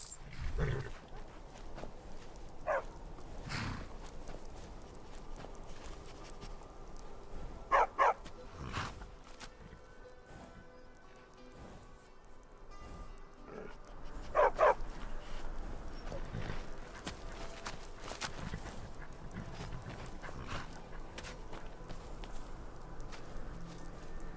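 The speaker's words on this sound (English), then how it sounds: "war dog is good company and good protection." A war dog barks in the Skyrim game world, with a few sharp yips in short bursts at intervals over steady ambient background and light footsteps.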